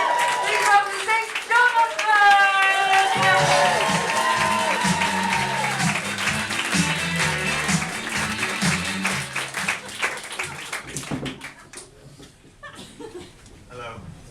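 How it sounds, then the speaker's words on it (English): Theatre audience at a comedy act clapping and cheering loudly for about twelve seconds, with whoops and some laughter, fading toward the end. "Whoop and cheer and clap and do that kind of stuff?"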